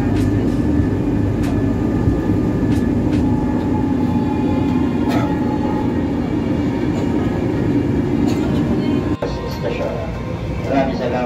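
An MRT-3 metro train in Manila rumbles steadily into a station near Trinoma, its low mechanical drone and brake squeals continuous and fairly loud, while a voice speaks over the noise.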